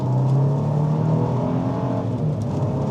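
A 2025 Nissan Armada Pro 4X Premium SUV cruising in standard drive mode, with a steady engine and road hum heard from inside the cabin at an even, continuous level.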